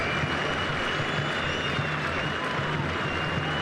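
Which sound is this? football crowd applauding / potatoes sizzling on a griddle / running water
football crowd applauding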